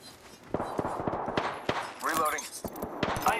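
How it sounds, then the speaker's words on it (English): Rapid video game gunfire in a sci-fi shooter, close and loud: a string of sharp shots, then a quick burst of rattling impacts as the player's shields take hits, with a voice talking over it. "Shots fired, and they're hitting me."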